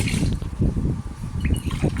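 Water splashes and gurgles as about 18 tumblers are poured steadily into a large cooking pot, close up with a hollow, sloshing sound.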